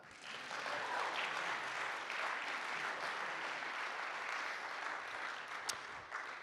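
Sustained applause from an audience at a live music and literary event, steady and dense for several seconds, with no talking over it.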